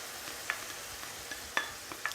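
Coconut and onion paste frying in oil in a pan, a steady soft sizzle broken by a few sharp stirring scrapes and pops, with no voices.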